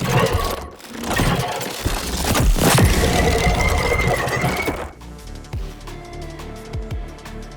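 Mastered sound design for a robot creature, layering mechanical clanks and servo whines with roaring fire bursts; dense and loud at first, then shifting to sparser clicky, tonal mechanical hits and sweeps.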